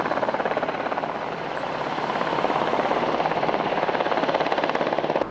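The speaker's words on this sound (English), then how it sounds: "A trio of helicopters could be seen all afternoon off Highway 1." Several helicopters flying over a wildfire near a coastal highway, a loud steady rotor chop with rhythmic blade thumping that holds throughout, close and continuous with no other sounds.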